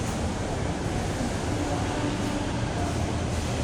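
An MRT train in Manila gives off a steady, continuous rumble and rushing hiss from inside the car, with no distinct breaks and no voices.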